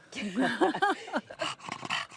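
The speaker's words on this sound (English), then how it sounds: "It's a good dog." A wrinkly dog vocalizes up close, with a run of rising and falling whines and groaning yowls followed by softer snuffly grumbles.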